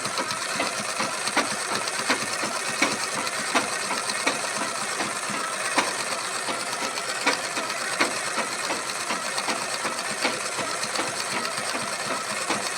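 A sewing machine stitches a long frock, running in a fast, steady mechanical chatter of rapid needle ticks, close and continuous with no talk.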